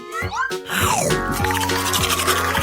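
A giant toothbrush scrubbing with toothpaste, several wet brushing strokes and bristle squeaks in quick succession, close and fairly loud, with an excited voice in the first half second.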